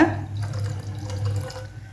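Half a cup of milk pours into a pot of water for sweet rice pongal, a steady close liquid trickle with faint drips running unbroken and alone.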